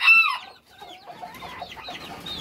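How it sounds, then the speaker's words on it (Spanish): New ginger-coloured hens cluck in a farmyard, with a loud squawk at the start followed by a run of short, rising clucks close by, no talking. "Ya estas son gallinitas nuevas que no sé si tengan huevos."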